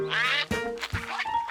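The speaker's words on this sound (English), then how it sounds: "George had never had ducks swim all around him before." Cartoon ducks quack in a Curious George episode: three or four quick, nasal quacks in a row, close and clear, with no voices over them.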